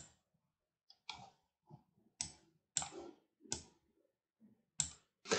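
Several separate mouse clicks on a laptop while changing advanced power settings, spaced irregularly across a quiet background, crisp and close.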